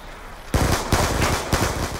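Pistol fire in Call of Duty cracks out in four sharp, loud shots spaced about half a second apart, each with a short ringing tail, after a brief quiet lead-in.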